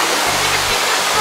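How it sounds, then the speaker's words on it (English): Loud, steady roar of the waterfall at Twin Falls, Hawaii, a dense unbroken rush heard close up with a low rumble beneath. "Look at that waterfall."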